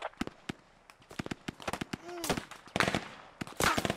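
Gunfire in the shooter game Squad, sharp cracks and bursts of shots at irregular intervals, some distant and some closer, with a couple of louder volleys later on and a faint voice partly in the background.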